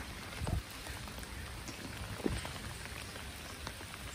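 Steady rain patters on surfaces outdoors, a soft continuous hiss with a couple of brief louder thumps and no voices.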